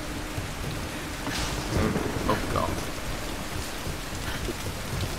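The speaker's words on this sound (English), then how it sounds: "This storm is really quite bad now. Look at the rain coming in." Heavy rain and storm ambience in the video game Tomb Raider, a steady dense hiss throughout with a man's brief exclamation over it.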